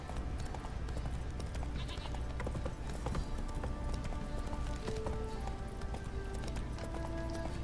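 Horse hooves clip-clopping steadily in The Witcher 3: Wild Hunt, a continuous trotting rhythm mixed with game ambience and faint background music.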